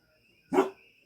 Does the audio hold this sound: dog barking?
yes